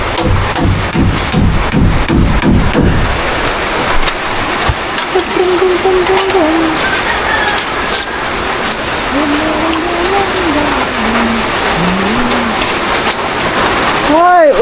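Rain falls steadily as a constant broadband hiss throughout, with people talking and calling out over it and a passing vehicle rumble near the start.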